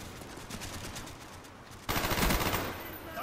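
Gunfire in the Call of Duty Black Ops multiplayer map Summit: a steady rattle of rapid shots, then a louder, denser burst of automatic fire close by.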